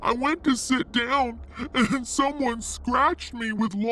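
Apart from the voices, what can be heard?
No everyday noise stands out behind the speech.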